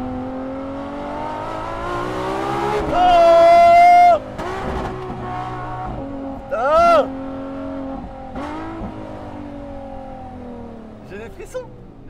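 Loud and up close, the naturally aspirated V12 of a Ferrari LaFerrari revs hard in bursts, its howl rising, then dropping at quick gear changes several times over the span, while a man exclaims briefly between pulls.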